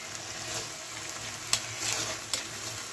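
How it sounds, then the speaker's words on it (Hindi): A sweet mixture sizzles in a pan while a spoon stirs it, with a continuous close hiss and a couple of sharp scrapes against the pan. "अच्छे से हिला लेंगे"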